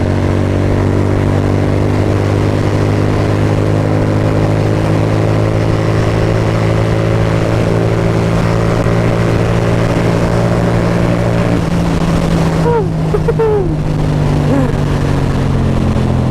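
A Keeway V250 V-twin motorcycle engine on an open road, a loud steady droning hum with strong wind buffeting that shifts pitch slightly near the end as the throttle is opened.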